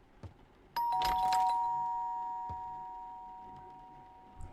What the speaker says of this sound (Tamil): ஓகே யார் காலிங் பெல்லு?